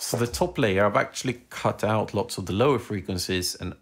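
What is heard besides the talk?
No everyday noises stand out.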